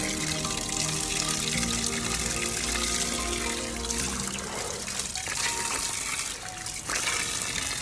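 Water rushes steadily and loudly at a waterfall on the Blue Mountain trail in Jamaica, a continuous close roar with no talking.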